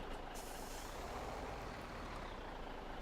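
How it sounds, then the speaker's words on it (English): Truck in the Farming Simulator 17 video game moving with an air-brake hiss, a steady, dense mechanical rumble and rushing noise throughout, heard alone. "need to move the truck up and collect them"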